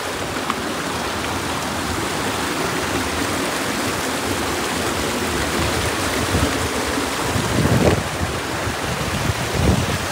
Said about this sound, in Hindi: और ये म्यूज़िक सुनो यार पानी का, उसे एंजॉय करो